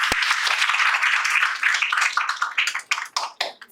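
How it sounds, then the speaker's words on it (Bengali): An audience at a Victory Day human rights gathering claps loudly, a dense burst of applause that thins into scattered, separate claps near the close. "তার জন্য একটা হাততালি"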